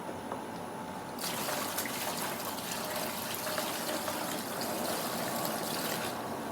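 Water from a large cooler gushes into a pipe, starting abruptly after a quiet second and continuing as a steady rushing pour at moderate level to the end.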